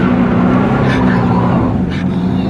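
A Volvo 240 doing a burnout, its engine roaring at high revs with a dense, continuous rumble and tyre noise over the whole short stretch.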